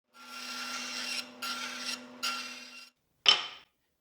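Two pieces of wood are rubbed with coarse 80 grit sandpaper in three long rasping strokes, followed by one short scrape, close and clear with no talk.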